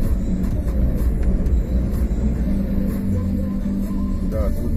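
A car drives the road between Shirokaya Balka and Novorossiysk at dawn in February, a steady low engine and road rumble heard from inside the vehicle.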